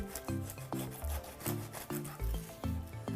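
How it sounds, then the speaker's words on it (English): A knife saws through the tough, rough outer skin of a pineapple in a quick series of repeated rasping strokes, close and fairly loud, with no talking. "So cut all around the pineapple."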